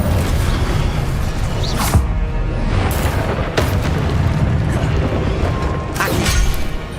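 The Incendio fire spell in the Hogwarts Legacy video game roars as a dense, continuous blaze, with several louder whooshing bursts breaking over the steady rumble.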